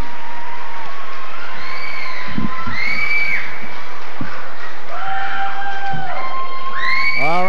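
A crowd at a Power Team show in Rock Island, Illinois, 2007, breaks into applause and cheering, with whoops and whistles rising over steady clapping.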